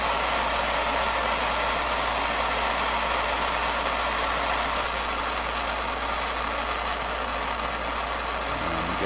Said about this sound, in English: Let me grab my torch.